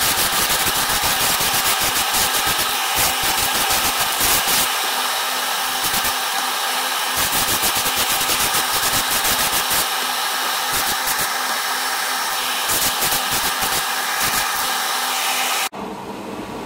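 A spray of primer hisses onto the upper hull of a 1/35 scale German Leopard 2 Leguan bridge-layer model. The airbrush-like hiss is loud and steady, pulsing with short bursts and brief pauses before stopping near the end.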